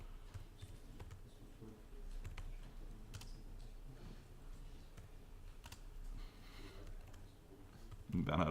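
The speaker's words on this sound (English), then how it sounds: "Bernhard must really kind of rethink in his head with the English keyboard" Typing on an English-layout computer keyboard during a JavaScript coding session, a steady patter of light key clicks running throughout under a faint room hum, with a louder burst at the very end.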